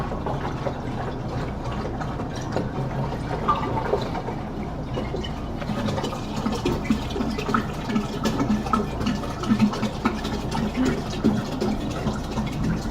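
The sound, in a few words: water filling a 1 gallon keg for home brewing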